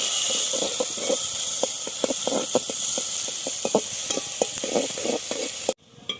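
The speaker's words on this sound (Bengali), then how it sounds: "পেঁয়াজ, এটা হালকা ব্রাউন করে ভাজবো আমি" Chopped onions fry in hot oil with a steady sizzling hiss and repeated stirring scrapes, close and continuous until a sudden drop near the end.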